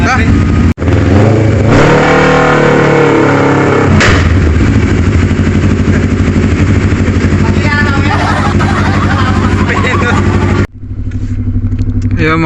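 A motorcycle rides along near a ferry pier, its engine droning loud and close with shifting revs for most of the clip, then cutting away abruptly near the end.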